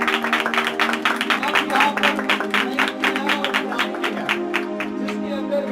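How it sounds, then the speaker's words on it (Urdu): A church congregation at a Sunday service in Pakistan applauds loudly, a dense burst of many hands clapping in a fast, steady patter over a sustained tonal hum, continuing for several seconds. "وہ کلیسیا کے لیے زور سے تالیاں بجائیں گے"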